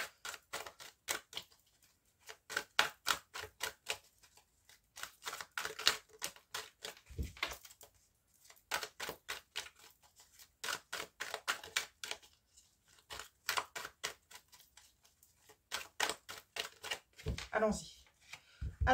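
Tarot deck being shuffled and cut by hand, repeated crisp riffling and flicking card bursts in clusters across the whole span, close and fairly quiet, with occasional soft handling knocks.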